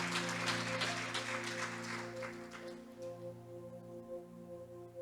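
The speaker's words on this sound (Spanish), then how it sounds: "Si usted quiere aplaudir, apláudalo con más gozo y con más alegría" A church congregation applauds during a sermon, with steady, moderately loud clapping over a sustained musical drone that gradually softens.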